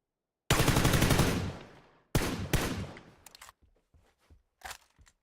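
PUBG gunfire in bursts: a long rapid automatic volley, then a second burst of sharp shots and a few scattered later cracks, loud and close, with no talking.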